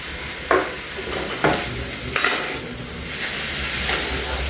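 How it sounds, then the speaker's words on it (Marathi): Potatoes seasoned with chilli and salt stir-fried in a pan for a fasting meal, giving a steady soft sizzle with a few sharp scrapes of a spatula against the metal, close up and with no talking. "मग हा बटाटा चांगला मिरचीमध्ये आपण मीठ आणि मिरची घालून परत घ्यायला आहे."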